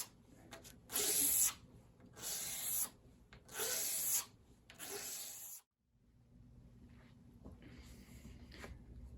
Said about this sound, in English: And now finish up with my sharp razor blade.